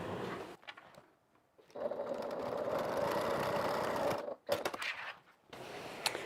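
Sewing machine stitching a basting line to close the top of a handmade evening bag, a steady mid-pitched motor hum running for a few seconds, stopping briefly and restarting, close and alone with no talk.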